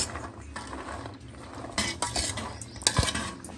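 Ingredients with red chillies being stirred together in a cooking pot, a spoon scraping and clinking against the metal in steady strokes, with a light sizzle underneath and a sharper clink near the end.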